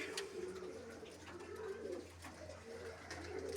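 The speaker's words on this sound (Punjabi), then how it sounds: "ਇਹ ਵੀ ਕਬੂਤਰੀ ਆ ਜੀ" Soft, repeated pigeon coos in a low rolling rhythm, fairly close, over a quiet background hum.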